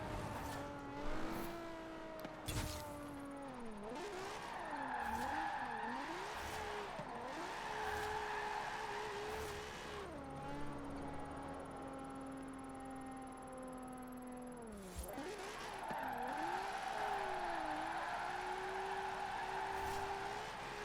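Nissan 370Z drift build in Forza Horizon 4, engine revving steadily with rising and falling pitch as the car slides through turns, tires squealing throughout, close and continuous with no talk.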